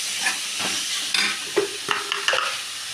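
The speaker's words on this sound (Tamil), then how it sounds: "தக்காளியை நல்லா போட்டுக்கலாம். இதையும் நல்லா கிண்டி விட்டுக்கலாம்." Onions and tomatoes fry in a pan with a steady close sizzle, broken by a few sharp scraping strokes of stirring.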